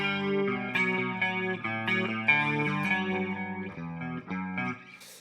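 An electric guitar plays a distorted, palm-muted metal riff, run through convolution reverb; chords ring steadily with a light, audible tail and no voices.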